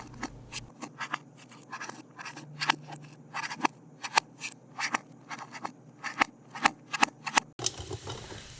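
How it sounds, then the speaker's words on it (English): Knife chopping food on a board in a home kitchen, a run of irregular sharp knocks and scrapes, close and fairly quiet, with no talk. "just chop it the best way you know how"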